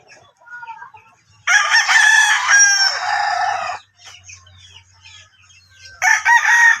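A gamefowl stag of the pumpkin hatch yellow line, with yellow legs, crows loudly and close by in two bursts, the first long and drawn out and the second starting near the end, with quieter clucking and low background noise in between.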